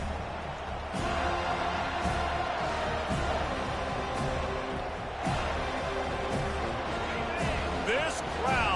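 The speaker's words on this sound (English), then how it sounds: "This crowd, full throat, splitting the eardrums and letting them know it's going to be a long day." A stadium crowd roars continuously in the NCAA 25 college football video game, a dense, loud wall of noise with thuds and swells throughout.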